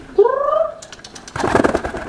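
A pet dove or pigeon coos nearby in a short, low, rolling call, followed by a burst of fluttering or scratchy rustling.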